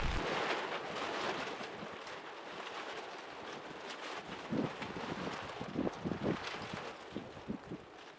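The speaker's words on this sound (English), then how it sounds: "Here and there, the whole tarp will violently shake from the wind." Wind buffets a camping tarp at a backcountry campsite in Algonquin, with steady rustling and gusty rumble and a few sharper flaps later on, fairly faint overall.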